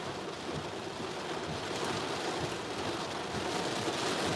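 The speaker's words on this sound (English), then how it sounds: "we're sitting in a major horrible storm" Heavy rain pours down steadily during a major storm, a dense, loud hiss with low thunder rumbling underneath throughout.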